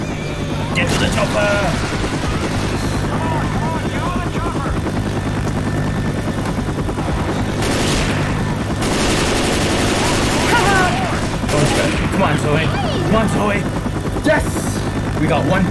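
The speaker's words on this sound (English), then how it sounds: "Get to the chopper!" A helicopter drones loudly and steadily in Left 4 Dead 2, with bursts of rapid gunfire firing over it throughout the stretch.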